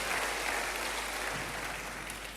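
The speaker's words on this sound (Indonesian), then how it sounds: "Yang mau berikan tepuk tangan bagi Tuhan" A church congregation applauds in praise during a worship service, producing a dense, steady wash of many hands clapping together with no individual claps standing out, moderately loud and sustained.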